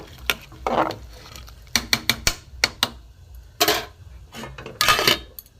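Khichuri of rice, lentils and vegetables stirred in a cooking pot with green chillies: sharp metallic scrapes and clinks of a spoon against the pot in irregular bursts, close and fairly loud, with no voice.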